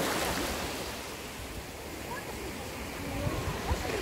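Sea waves wash steadily onto a hotel beach in Turkey, a broad continuous surf roar with wind, loud and close, while people talk over it.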